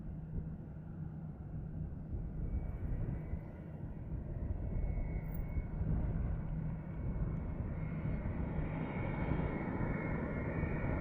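Steady, broad jet roar of an airliner landing at Montego Bay airport in Jamaica, sustained and fairly even throughout with no voices.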